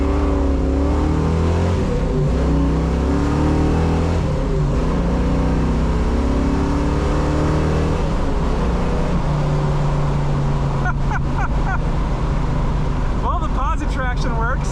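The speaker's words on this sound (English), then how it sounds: "Should we do a first gear power run?" A Mustang accelerates hard in a first-gear power run, its loud engine roar climbing steadily in pitch with a brief change near the end, while voices talk over it inside the car.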